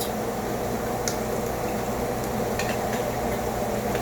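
Minced garlic cooks in a hot pan, giving a steady, dense sizzle and crackle that continues evenly throughout with a few sharper pops.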